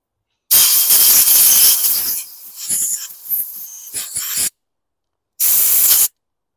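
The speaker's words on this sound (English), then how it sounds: "My compressed air blasted." Compressed air blasts through a lawn mower carburetor in loud, harsh bursts: a long spray, then a weaker sputtering stretch, a stop, and one more short blast.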